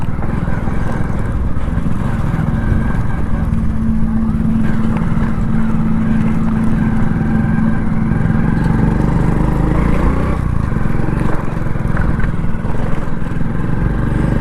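A motorcycle engine runs steadily in second gear while the rear brake is applied and the clutch lightly pressed and released, a constant close mid-pitched drone with slight dips in revs.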